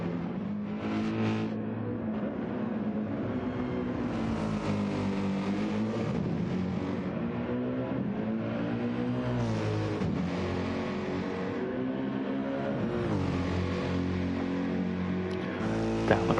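A GT2 race car engine roars in a racing video game at Mount Panorama at night. The loud, continuous engine note sweeps up and down through gear changes without pause.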